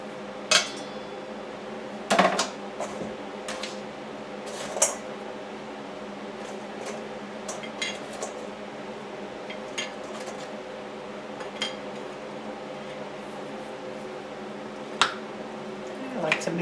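Bruschetta topping with balsamic and olive oil being mixed in a bowl, with a spoon giving scattered metallic clinks and scrapes against the dish over a low steady room hum, some louder knocks, close by.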